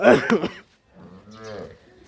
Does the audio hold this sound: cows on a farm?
yes